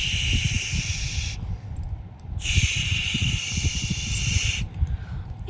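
Mutton pieces dropped into hot oil and ghee sizzle steadily with a broad, continuous hiss across the whole stretch, briefly dipping before swelling again, with clattering pan sounds beneath.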